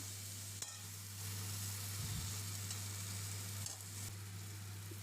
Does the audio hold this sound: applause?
no